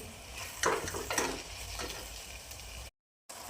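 Spatula scraping and stirring through eggplant bharta in a pan after fresh coriander goes in, a few distinct scraping strokes over a soft sizzle, with no talking.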